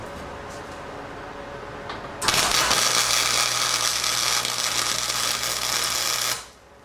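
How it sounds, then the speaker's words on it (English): Welding onto a steel bus frame makes a sudden loud, crackling hiss that holds steady for about four seconds over a low hum and then cuts off, with only quiet background before it. "Okay, there's a nice little weld there."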